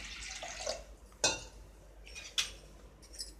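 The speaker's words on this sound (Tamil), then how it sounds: "இன்னும் கொஞ்சம் கூட தண்ணி ஊற்றிக்கலாம்" Water poured into a pot of radish sambar before pressure cooking, with a soft trickle and a couple of sharp metallic clinks from the vessel, close and fairly quiet.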